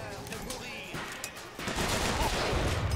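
Rapid gunfire in the shooter game Bioshock Infinite, a dense burst of shots that grows louder and heavier partway through.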